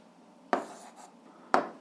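Pen strokes writing out an algebra answer, two short scratchy marks about a second apart, close and quiet with no talking.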